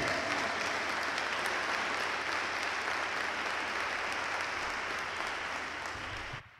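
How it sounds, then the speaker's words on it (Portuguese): Church congregation applauding: a dense, even wash of many hands clapping at moderate distance, sustained without a break for several seconds before cutting off abruptly. "E os que creem aplaudam ao Senhor por isso."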